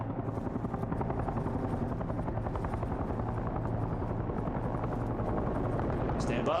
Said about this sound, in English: Just towards the sound of rotor blades